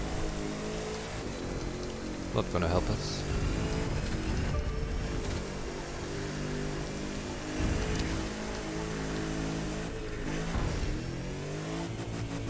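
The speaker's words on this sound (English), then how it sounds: "We have done 2 runs and it's raining." Steady rain hisses across the track in The Crew 2, with a car engine revving and surging underneath. A player speaks briefly over the downpour.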